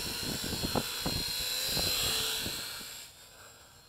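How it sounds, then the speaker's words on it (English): A Huanqi 897B low-cost beginner quadcopter drone flies nearby with a high buzzing whine of small propellers, while a few sharp knocks sound early on before the buzz fades slightly. "this is a low-cost beginner's learn-to-fly quadcopter"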